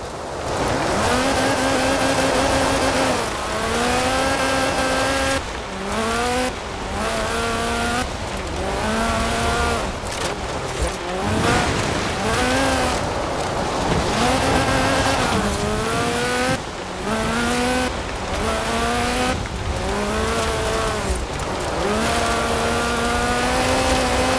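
A Lotus Sunbeam rally car with a 2.2-litre slant four-cylinder engine, racing in Forza Horizon 4, loud and close, revving hard through repeated gear changes, each upshift dropping the pitch before it climbs again, with no talking.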